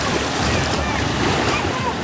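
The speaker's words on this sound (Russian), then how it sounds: "Дует легкий, но не холодный северный ветерок." A light northern breeze blows on a crowded beach at Anapa by the sea, heard as steady, loud rushing wind noise mixed with surf, with no clear pauses.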